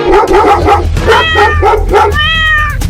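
A cartoonish dog barks in a quick burst of several yaps, then lets out a longer high whining howl; loud and close, no talking.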